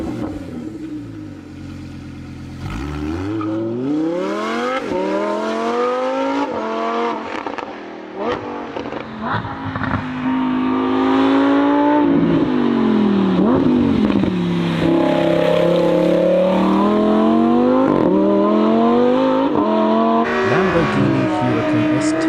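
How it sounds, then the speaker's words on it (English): A Lamborghini Huracan STO's engine rises and falls through repeated loud revs, climbing hard in pitch under acceleration with brief dips between surges, close and continuous throughout. "Lamborghini revs and acceleration."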